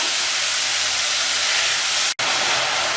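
Steady loud sizzling hiss of chopped tomatoes frying in a pan, continuous and close, with one very brief dropout near the end.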